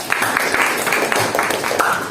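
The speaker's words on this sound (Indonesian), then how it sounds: "Tepuk tangan dulu untuk kelompok 1." A classroom full of students claps for the first group after its presentation, a continuous busy patter of hands throughout, fairly close and moderately loud.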